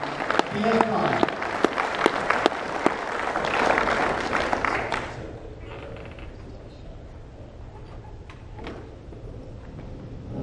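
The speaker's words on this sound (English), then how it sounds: "give him a big round of applause at 9 o'clock in the morning" An audience at the EVCON 2014 electric vehicle conference claps loudly for about five seconds, and the applause then fades into quieter room noise with scattered voices.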